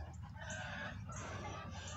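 Chickens and a rooster cluck steadily in a barnyard, close and fairly loud, with a few brighter calls rising over a constant low outdoor rumble.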